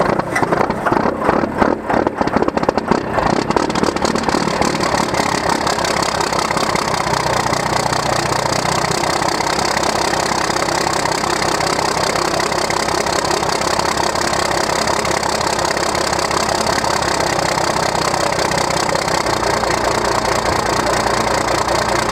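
A Cummins 12-valve diesel in a second-generation dually truck cranks for a few seconds, then settles into a loud, steady knocking idle that clatters on without a break.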